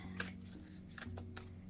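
A Pacific Northwest Tarot deck is shuffled by hand, making quiet, soft riffling and sliding taps in uneven bursts close to the listener.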